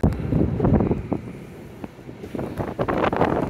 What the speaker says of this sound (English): if you come out and you find it's a bit windy on one side